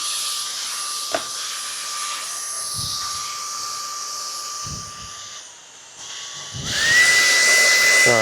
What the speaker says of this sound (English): So I'm going to grab my trusty vacuum right here.